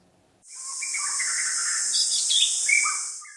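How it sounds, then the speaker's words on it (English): A recorded bird call played back to lure birds out in Bhutan, with chirps and whistled notes over a high hissing tone, steady and fairly loud for about three seconds. "Call playback is a recording of bird call which birders use to lure a bird out of the nest for quicker and easier spotting."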